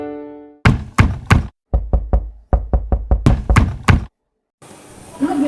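Knocking on a door, three quick raps, a pause, then a longer run of firm knocks, loud and close, ending in a brief bit of room noise.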